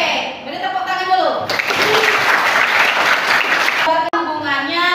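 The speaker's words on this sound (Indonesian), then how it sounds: "beri tepuk tangan dulu" Students in a chemistry class on ionic bonding break into a burst of applause lasting a few seconds, close and fairly loud, with a teacher's voice talking just before and after it.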